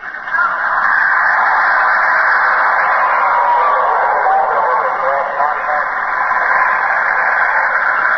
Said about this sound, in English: That sound of voices may be what the technicians call ghost voices, weird patterns of static which sound like people talking.